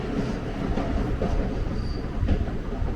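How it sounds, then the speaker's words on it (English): A train rumbles along the tracks just below an apartment in Melbourne, Australia, a steady low roar with faint clacking and a brief thin squeal, continuous and fairly close throughout. "There's a train just below us."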